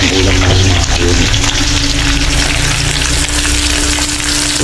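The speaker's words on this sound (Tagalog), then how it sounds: "nag-prito ulit tayo ng isda para pang-ulam na rin mga kayomot" Fish frying in a pan in a home kitchen, a loud, steady crackling sizzle filling the whole stretch close up, with faint stirring or clinking mixed in and no talking.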